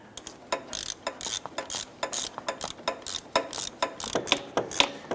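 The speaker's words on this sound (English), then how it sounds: "I'm going to go ahead and put my socket and ratchet on those there and try and snug those down" A socket ratchet snugging down exhaust manifold bolts on a 2005-2010 Chrysler 300 clicks in quick, steady bursts of sharp metallic ticks, loud and close with no voices.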